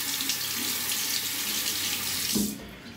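Tap water runs steadily into a sink while a razor is rinsed under it during a shave, a continuous close splashing stream that cuts off near the end.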